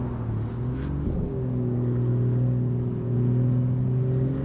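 A BMW M140i with a Stage 2 tune revs high, its engine droning loud and close with rising and falling harmonic tones held steady over several seconds, no talking.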